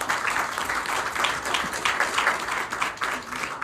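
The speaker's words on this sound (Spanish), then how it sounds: "pedirles un aplauso para todos ustedes" A panel audience at a discussion on journalism and civil society applauds, filling several seconds with a moderate, even wash of clapping.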